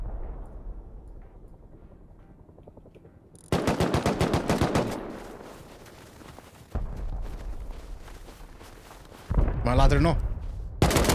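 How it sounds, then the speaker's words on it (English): Rapid automatic gunfire bursts in a modded multiplayer video game raid, loud close volleys starting partway through and returning in later bursts, with players talking over the shots. "He was shooting to someone."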